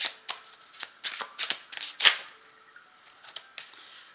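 Tarot cards drawn and shuffled from a deck in a series of short, crisp card slaps and flicks, close and fairly quiet, with one sharper snap midway and no talking.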